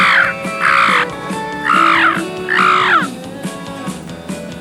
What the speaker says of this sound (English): home of this friendly bird.